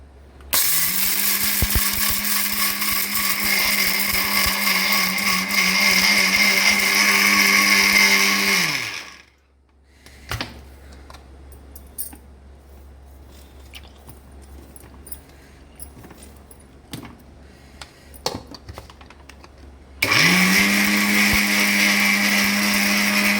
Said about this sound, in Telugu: ఇప్పుడు జార్లో పుట్నాలు వేసిన ఇవి మిక్సీ పట్టుకోవాలి, మనం పొడి చేసుకోవాలి.